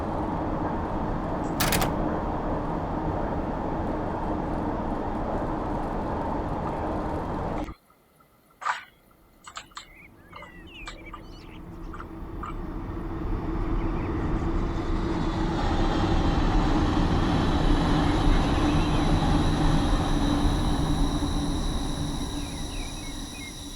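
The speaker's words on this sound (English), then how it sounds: "I love that singing rail sound." Metropolitan Line S7+1 stock train in a video game, with steady broadband rolling noise and a high whining rail tone, briefly dropping to near silence with scattered clicks, then building back to a loud, continuous run.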